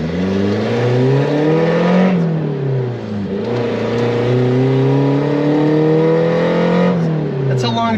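A Mitsubishi Pajero Mini's small engine revs hard under full throttle through an intersection, its rising whine climbing, dipping at gear changes, then climbing again, loud and close for the whole stretch.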